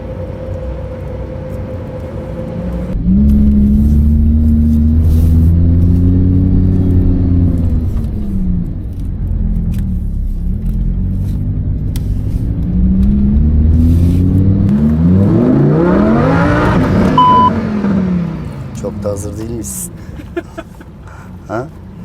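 A car drives and accelerates. The loud engine rumble climbs and falls through repeated revs and gear changes, then surges again in a long rising whine before easing off. Occasional voices sound in the cabin.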